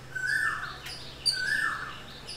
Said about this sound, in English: birds are eating the bread that I put for them